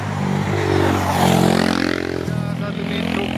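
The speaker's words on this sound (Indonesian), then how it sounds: "Satu unit truk trailer teman-teman" A trailer truck, one of several rigs, climbs the steep Bukit Kodok hill, its engine a low laboring drone with shifting gear tones and rattling, steady and fairly close, with someone talking over it throughout.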